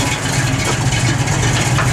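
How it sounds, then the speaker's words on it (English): A 1970 Chevrolet Nova SS with its blower motor running, a steady, loud mechanical whir and hum that holds evenly throughout, close up with no voices. "Blower motor works."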